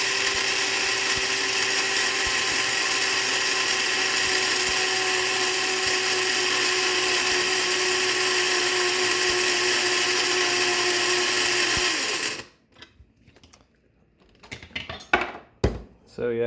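Coffee grinder whirring loudly and steadily for about twelve seconds at close range, then cutting out abruptly, followed by a few faint clattering handling sounds.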